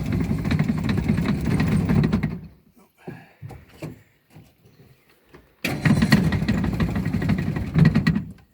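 A 1959 Johnson 35 hp Super Sea-Horse outboard motor on an AeroCraft boat idles loudly up close with a steady rumble, drops out for a few seconds of near quiet, then runs again.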